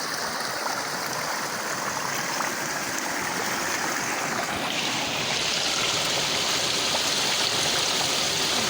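Water rushes steadily over a small makeshift dam of wood and sand-filled sacks. The flow is loud, close and continuous, with no voices.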